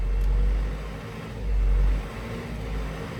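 A 1998 Case 580SL II 4x4 backhoe engine runs at a steady low rumble, swelling into one clear rev near the middle before settling back to idle. The sound is close and loud, with no voices.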